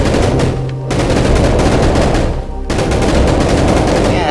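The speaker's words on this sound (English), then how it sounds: "This is an autocannon dealing light infantry. It fires very fast, but it can still vaporize a house." An autocannon in a video game fires in rapid, dense bursts, loud and close, with two brief pauses between long strings of fast repeating shots.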